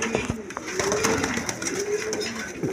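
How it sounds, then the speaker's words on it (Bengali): A pair of dragon pigeons coo steadily and close by, soft repeated low calls running through with faint chirps, no speech. "দর্শকবৃন্দ এখানে এক পেয়ার ড্রাগন কবুতর আছে"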